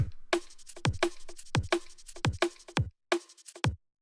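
A synthesized drum sound built in Serum with a bandpass filter and distortion hits in a punchy repeating pattern of about a dozen strikes, each with a deep thump and a bright, gritty snap, alone and close.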